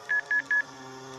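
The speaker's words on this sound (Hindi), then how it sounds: "और डर के मारे वो सुमित्रा को फोन मिलाने लगी" Three short, evenly spaced keypad tones beep in quick succession, followed by a faint steady hum.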